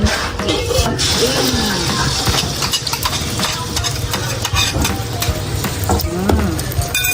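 Herb omelette egg mixture frying in a little hot oil in a pan, giving a steady, close sizzle with occasional scraping and clinking from stirring throughout.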